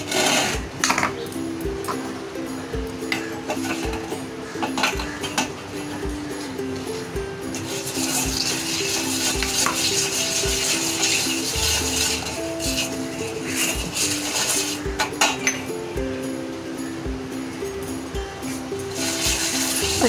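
A brass plate is scrubbed by hand with soil and cut lemon, giving repeated gritty rubbing strokes and scattered metallic clinks. The sounds are close and fairly steady, with brief louder knocks.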